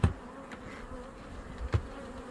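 Honey bees on a frame from a hive being treated for varroa mites give off a faint, steady low hum, broken by two soft knocks near the start and end.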